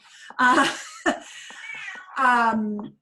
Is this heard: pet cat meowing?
yes